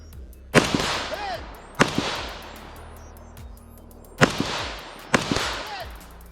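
Rifle shots at an outdoor shooting match, fired from a kneeling position. Four loud, sharp cracks ring out at uneven intervals, each trailing off in a long echo.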